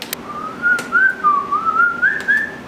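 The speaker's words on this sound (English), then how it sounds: "I can't whistle very good" A single person whistles a wavering, slightly unsteady melody with short breaths between phrases, close and clear, with no talking.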